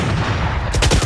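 Sheriff pistol fire in a Valorant deathmatch: a couple of sharp, close game gunshots crack in quick succession near the end of a short burst of loud in-game noise.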